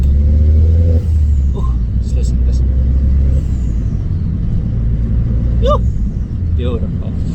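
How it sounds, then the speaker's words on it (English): A car fitted with an upgraded turbo and tune idles with a deep rumble and revs, with short sharp hissing blow-off bursts; someone speaks briefly over it. "that turbo blow off, it's like coffee on a crappy morning."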